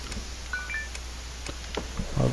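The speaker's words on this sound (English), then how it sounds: "my phone's blowing up" Mobile phone notifications: several short, faint beeps and chimes in quick succession over a low background hum.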